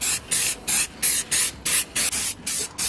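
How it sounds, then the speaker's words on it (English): Black spray paint hissing from an aerosol can onto a car's crash bar supports, fired in about a dozen short, even bursts with brief pauses between, close and loud. "I'm just going to spray them with black just to give them a coat or something"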